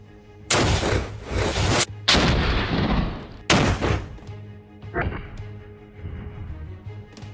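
A Soviet WW2 14.5mm anti-tank rifle firing incendiary rounds at sandstone makes three very loud, close booming shots, each with a long rolling echo, followed by a fainter fourth report.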